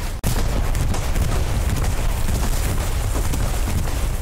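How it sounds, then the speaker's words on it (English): Dense, continuous rumbling barrage of bombs and gunfire during a bombing run in the World War II shooter Hell Let Loose, loud and unbroken after a sharp opening cut, with no voices. "And bombing run incoming in highway."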